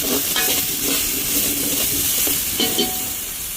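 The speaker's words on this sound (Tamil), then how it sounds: "இப்போ வெங்காயம் எல்லாம் வதங்கிட்டு இஞ்சி பூண்டு பேஸ்ட்டை சேர்க்குறேன்." Onions sautéing in oil with ginger garlic paste, a steady close sizzle overlaid with repeated scraping and stirring strokes of a spoon against the pan, continuous and fairly loud.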